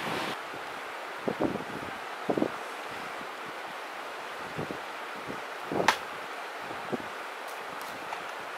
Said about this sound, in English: Hopefully this wind dies down